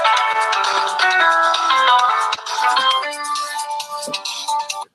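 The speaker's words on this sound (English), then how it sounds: "That's your ringtone?" A phone ringtone plays loud and close, a bright melodic electronic tune of repeated notes that runs for several seconds and then cuts off abruptly.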